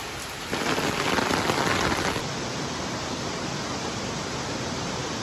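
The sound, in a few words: rain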